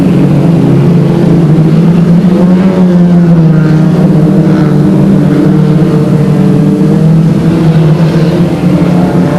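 Race cars roar past on a short oval track at a hornets-class race, loud sustained engine drone with shifting pitch as several cars run close together, no talk over it.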